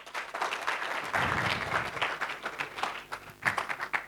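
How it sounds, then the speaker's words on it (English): A conference audience at an international pharmacy research meeting claps for a speaker, a modest scattered round of applause that thins out toward the end. "Let's clap for her."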